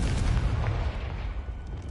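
A Confringo spell in Hogwarts Legacy on PS5 bursts with a fiery boom, a heavy low blast at the start that rumbles and fades over the following second, with no voices over it.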